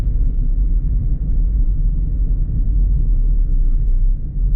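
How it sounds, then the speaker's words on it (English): A 2021 Land Rover Defender 110 rolling along a dirt road gives a steady, muted low rumble from tyres and engine, continuous and smooth throughout with no voices. "I'm driving on dirt right now, and listen."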